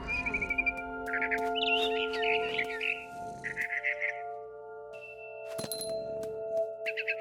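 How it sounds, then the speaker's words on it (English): Barn swallow in What Remains of Edith Finch giving repeated rapid trilling chirps in a close, clear series, then a pause and a couple of sharper calls over a steady low ambient drone. "Then I heard chirping outside my window. It was a barn swallow going back to her nest."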